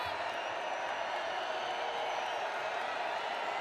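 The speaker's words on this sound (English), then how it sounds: "Crowd making noise for Wyoming." A stadium crowd at a football game roars as the home side rallies for Wyoming, a steady, distant wash of cheering and noise that holds evenly throughout without clear individual voices.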